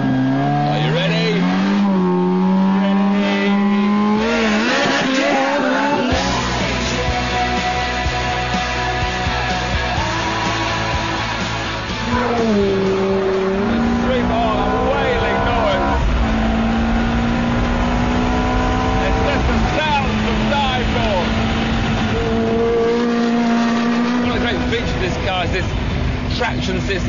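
A Ferrari F430 held at high revs for a launch-control start, then a loud, sustained acceleration with rising and falling engine pitch through gear changes, close and continuous with no talk.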